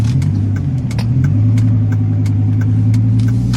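Loud, close engine note of a Dodge Ram SRT10 or Chevrolet Silverado Super Sport pickup truck, rising as it accelerates through a U-turn, with a deep, steady growl that climbs in pitch and holds.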